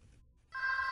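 A telephone starts ringing abruptly after a brief quiet moment, a bright electronic bell tone that holds close and clear with no voices.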